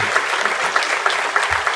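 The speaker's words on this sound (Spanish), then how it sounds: "Un aplauso, por favor," An audience at a keynote conference lecture claps for Dr. Sergio Tobón, a brief burst of dense, even applause.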